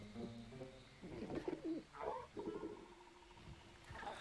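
A Kulu-Ya-Ku bird wyvern in Monster Hunter World gives a series of soft, burbling cooing calls, a few short clucking phrases at low volume with no talk over them.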